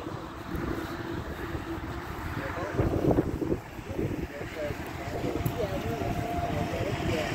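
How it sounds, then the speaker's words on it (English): Gusty wind buffets the microphone in an open cemetery, a loud low rumbling roar that swells and dips over several seconds, with a voice briefly heard underneath. "Sorry, it is a windy day."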